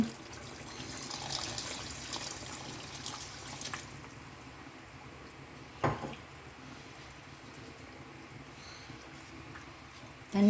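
Water pours steadily into a pot of partly cooked seeraga samba chicken biryani with rice for a few seconds, then stops, leaving quiet kitchen background noise and a brief clatter.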